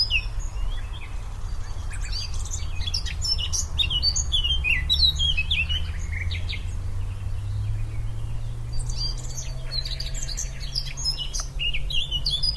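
Many small birds sing continuously in Bulgarian countryside, among them black-eared wheatears, western rock nuthatch, Spanish sparrow, green sandpiper and barred warbler, with overlapping chirps and trills over a steady low background rumble and no voices.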